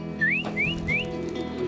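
Three quick rising whistled notes, a pigeon keeper's call, each a short upward slide, evenly spaced over a low steady background hum.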